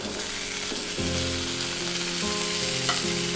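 Green chili and potatoes fry in a pan with a steady, dense sizzle, loud and close, while utensil scrapes and stirring come through on top.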